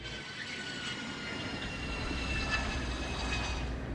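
A jet engine whines steadily after the aircraft lands, with a continuous roar and high tonal hum that grow slightly louder over several seconds, heard close and with no voices.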